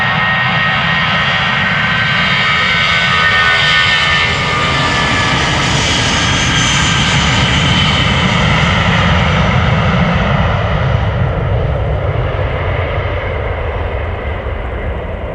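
Jet airliner taking off from the Polderbaan runway at Amsterdam Schiphol Airport, a loud, close, sustained engine roar with broadband rumble that swells and holds throughout, no voices.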